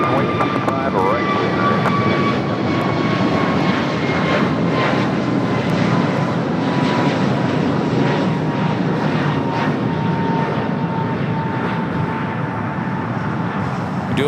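Airliner taking off at LAX, a loud, continuous engine roar with a slowly falling whine, heard close and steady throughout with faint clicks and noise over it.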